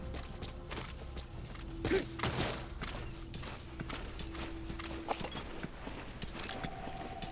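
Video-game horse hooves clop steadily on a hard surface at a walking pace, mixed with thuds and mechanical clatter. The rhythm holds throughout with no talking.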